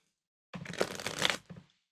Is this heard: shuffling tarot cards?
yes